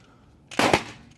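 A single heavy Özkursan shotgun blast at an indoor shooting range, one loud close boom with a short echoing tail in an otherwise quiet moment.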